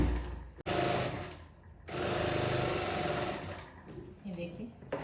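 A sewing machine stitches the seams of an Afghani salwar in close, busy bursts, stopping briefly and starting again, with a voice talking at points.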